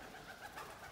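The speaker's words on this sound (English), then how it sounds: "Here's a bird." Pigeons or doves roosting inside an abandoned synagogue give a soft, continuous cooing murmur, faint and steady throughout, with no talking.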